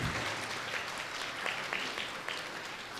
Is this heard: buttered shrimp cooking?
no